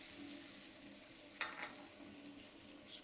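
Chopped leeks, about half a cup, sizzling in a pan while making crab udon, a steady frying hiss with a brief stir partway through, no talking.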